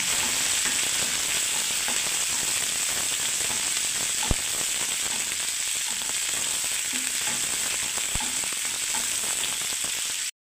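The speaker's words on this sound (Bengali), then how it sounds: "পেঁয়াজগুলোকেও দিয়ে দিচ্ছি বন্ধুরা। এবার আমি এটাকে ভাজতে থাকবো" Onions fry steadily in a pan with an unbroken, even sizzle that fills the whole stretch, punctuated by a couple of sharp clicks. No voices are heard.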